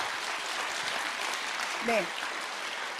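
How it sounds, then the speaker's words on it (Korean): Audience applause in a hall during a network-marketing company presentation, a continuous spread of clapping at moderate level, with a brief spoken word from the presenter cutting in near the end. "우리 애터미를 설립하신 박한길 회장님께 박수 한번 드렸으면 좋겠습니다"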